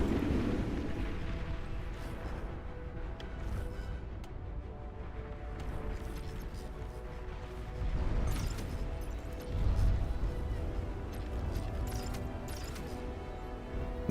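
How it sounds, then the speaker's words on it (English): Torpedoes launch and explode in a large naval battle in the real-time strategy game Beyond All Reason, a dense rumbling wash of booms and crashes with louder blasts swelling midway and near the end. "Torpedoes away"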